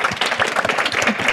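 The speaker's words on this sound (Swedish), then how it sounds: "En tack till er, en stor applåd." An audience at a gender-equality forum on transport breaks into hearty applause, dense and sustained, with many hands clapping close together and no speech over it.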